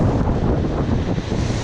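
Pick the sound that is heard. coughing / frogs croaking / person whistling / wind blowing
wind blowing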